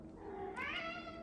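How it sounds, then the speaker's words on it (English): A pet cat lets out a single rising, drawn-out meow indoors on a snowy day, fairly soft and close, with no talk over it. "that's my cat"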